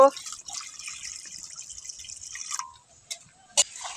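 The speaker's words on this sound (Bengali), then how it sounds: "কড়াতে একটু জল দেব" Water is poured into a wok set on a lit stove, a thin trickle and splash with a few drips at the end, close and moderately loud.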